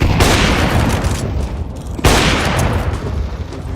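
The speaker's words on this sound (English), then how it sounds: "Deploying flashbang." A flashbang grenade goes off in Counter-Strike 2 with a loud close boom, then a second sharp blast about two seconds later, and both roll off into a noisy decaying rumble.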